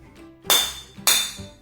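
Two sharp clinking strikes on a glass object, close and crisp, each with a brief bright ring that fades quickly.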